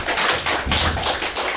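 An audience applauds the winner at a regional league final, a brief, dense burst of close, continuous clapping.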